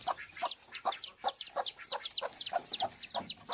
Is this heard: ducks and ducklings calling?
yes